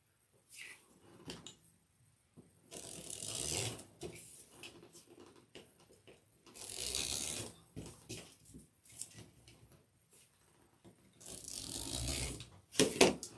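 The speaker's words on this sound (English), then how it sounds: "we're going to cut the whole roll" Scissors cut through a whole roll of deco mesh for a sunflower wreath. Three separate bursts of rough, rasping cutting are separated by quiet pauses, ending in a sharp snip.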